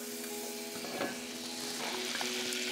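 Butter sizzling and melting in a pot as the base for cabbage soup, a steady close frying crackle with a few brief clinks and stirring scrapes, no voices.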